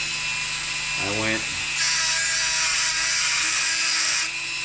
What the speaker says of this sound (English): And then what I finally did is I took my Dremel, and with the Dremel,